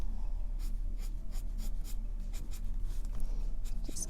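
Colored pencils scratching across paper, a continuous close scribbling with rhythmic strokes and soft taps, no talking.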